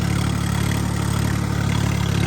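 A tractor pulling a 9-foot rotavator through a field being prepared for sugarcane runs at a steady, loud, droning throb, the engine note holding constant and close throughout.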